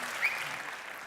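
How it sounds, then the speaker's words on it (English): Audience applause at a conference talks event, a brief steady wash of clapping from a crowd, moderately loud throughout with no speech over it. "Give yourself a round of applause."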